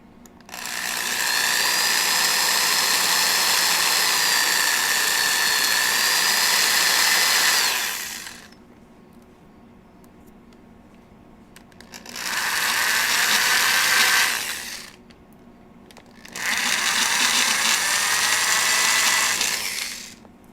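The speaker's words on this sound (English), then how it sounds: "so drill a hole here" A power drill whirs steadily in three bursts, a long run followed by two shorter ones, with quiet pauses between.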